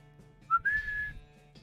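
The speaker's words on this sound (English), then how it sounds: "Whistle for Tina." A single clear whistle calling a horse in the western video game West of Loathing, a short rising note sliding into a sustained tone, heard alone against a quiet backdrop.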